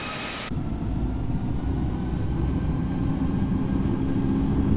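A simulated airliner in the Infinite Flight game powers up for takeoff on runway 4 left, its jet engines swelling into a loud, steady, low rumbling roar after a brief quiet start.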